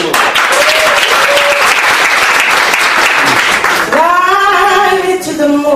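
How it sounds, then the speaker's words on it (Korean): An audience at a youth talk event applauds loudly in a dense, sustained burst of clapping, and near the end a singing voice begins over the fading applause. "박수."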